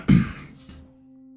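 A single short, throaty cough-like sound near the start, close and fairly loud, followed by quiet room tone.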